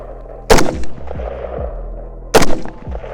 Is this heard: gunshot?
yes